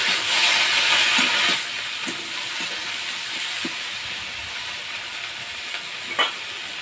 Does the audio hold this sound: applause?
no